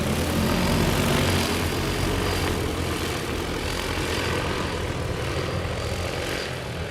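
A large agricultural spray drone turns over a crop field, its propellers giving a loud, steady, droning buzz that is close and unbroken throughout.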